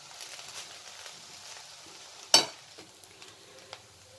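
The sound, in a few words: stirring rice and onions in a pan for fried rice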